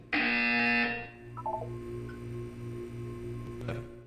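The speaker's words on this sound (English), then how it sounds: "When you hear the buzzer, look up at the ceiling." A loud, harsh electronic buzzer in the video game Portal 2 blares for about a second, then cuts off, leaving a low hum and faint electronic tones behind.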